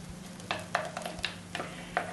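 Finely ground consommé mixture cooking down in a pan over the fire, a soft steady sizzle broken by a handful of scraping stirs at irregular intervals, fairly quiet and close, no talking.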